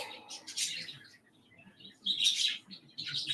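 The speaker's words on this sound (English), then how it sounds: "Oh, my birds are so silly." Pet birds chirp and tweet indoors in short bright bursts, a few near calls separated by quiet moments, with no talking.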